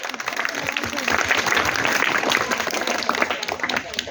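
Students clap for a team at a school prize announcement, a burst of lively applause from a group that swells and holds for several seconds, with some voices mixed in.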